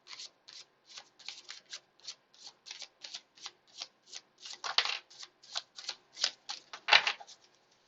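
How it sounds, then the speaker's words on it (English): Tarot cards shuffled by hand in quick, steady riffling bursts, close and fairly soft, with a couple of louder flurries near the end and no talking. "I'll do a quick shuffle here, Liz."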